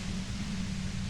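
Steady radio white-noise static from Disco Elysium, an even, continuous hiss with no breaks, alone.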